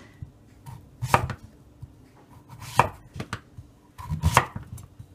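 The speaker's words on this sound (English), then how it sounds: "We're gonna lay them down and watch how we cut" A knife chops through a raw acorn squash, slicing it into quarter-inch pieces: three sharp, crisp cuts land about a second and a half apart, each with a brief crunch against the board, and it stays quiet in between.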